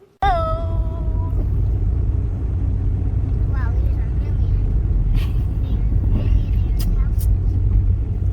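A car drives along at a steady pace, its low engine and road rumble continuous and close from the inside, with a short bright chime at the start and brief faint voice sounds later on.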